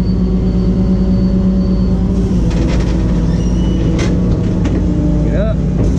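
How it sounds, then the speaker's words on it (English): Flatbed wrecker truck running steadily up close, a constant low engine drone with hydraulic whine as the bed pulls forward, a few faint clanks over it. "Pull your bed forward."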